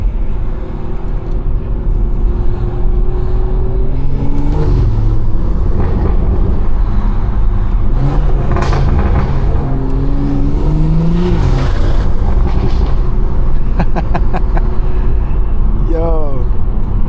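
A BMW's exhaust burbles and drones from inside the car while driving, the engine note rising and falling through gear changes, with people talking over the steady cabin rumble.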